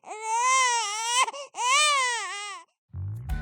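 An infant cries in two long, wavering wails with a short gasp between them, loud and close, followed by a brief rustling bump.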